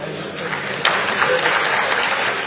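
An audience at a talk breaks into dense, continuous applause, loud and close throughout, with a sharper surge of clapping partway through.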